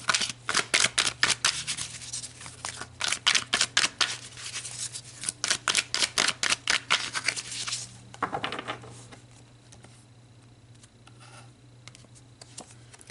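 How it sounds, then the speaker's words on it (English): Tarot cards are shuffled: a burst of rapid, crisp card riffles and slaps repeats for about eight seconds, then quieter handling rustles follow over a low steady hum. "So let me give the cards a good shuffle."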